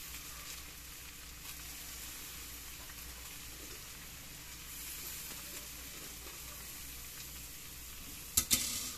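Cabbage stir-frying in a pan for pancit canton guisado, a steady soft sizzle throughout with no talk, ending in a couple of sharp utensil clinks against the pan.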